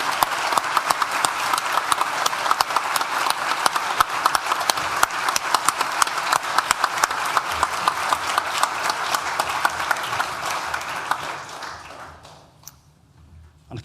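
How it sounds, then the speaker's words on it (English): An audience at a university graduation ceremony for a school of science and technology fills the hall with loud, sustained applause for about twelve seconds, a dense steady roar of clapping that then quickly tapers off. "we show our thanks to you, Mary, with a well-deserved round of applause"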